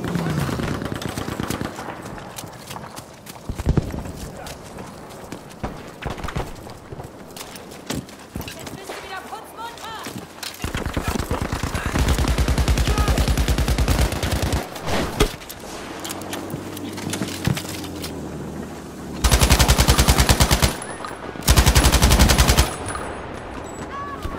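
MG34 machine gun fire in Battlefield V, with loud sustained bursts and shorter rattling strings of shots breaking through surrounding battle noise, distant explosions and shouted voices.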